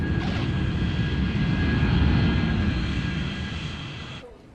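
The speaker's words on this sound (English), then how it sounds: "It's our first flight coming in, United from Chicago." A United passenger jet arriving from Chicago lands at Heathrow with a loud, steady engine roar and rumble close by, fading toward the end.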